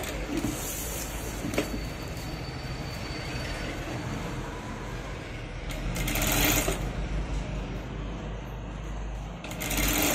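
A sewing machine runs steadily while stitching the back part of a maggam embroidered blouse, a continuous close whirring drone with a brief louder surge partway through and no talking.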